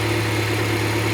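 Honda Civic with a B16A2 engine idling at about 1,000 rpm, a steady low hum with a constant tone and no talk over it.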